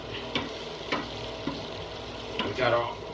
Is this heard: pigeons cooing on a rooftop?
no